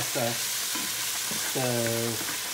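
Onion and Italian tomatoes fry in a pan for a clam spaghetti sauce, a steady close sizzle with light stirring and a few short tonal squeaks, no speech.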